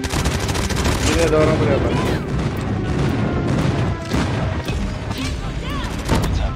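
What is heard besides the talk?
airstrike explosions in a video game (Call of Duty Mobile)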